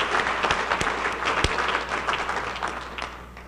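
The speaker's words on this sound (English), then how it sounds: "Let's give our great NCOs a round of applause." Audience applauding for senior NCOs at an Air Force Outstanding Airmen of the Year event, a dense steady wash of clapping with a few sharp louder claps standing out, sustained and fairly close throughout.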